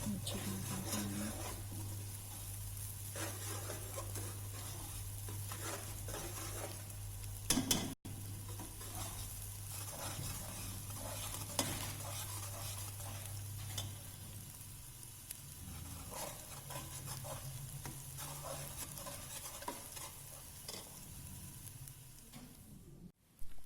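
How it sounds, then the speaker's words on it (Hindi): Chopped garlic and ginger sizzle with onions in hot oil for moong dal, a spoon stirring and scraping the pan throughout; steady close frying hiss with a low hum, brief sharp clatters near the start and end, no talking. "अब हम इसमें लहसुन अदरक चॉप किया हुआ डालेंगे और इसको 2 मिनट तक हम फ्राई करेंगे।"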